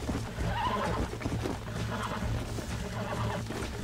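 Horse neighing in the video game Red Dead Redemption, a clear whinny heard a few times over steady background rumble and some hoof movement, fairly quiet and without talk.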